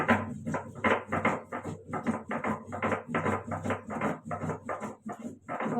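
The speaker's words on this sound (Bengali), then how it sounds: "আদা, গোটা গরম মশলা একসাথে বেটে নেব।" Ginger ground into a paste together with whole garam masala, cumin, fennel and green chilli, heard as a close run of rhythmic rubbing and grinding strokes with short gaps between them.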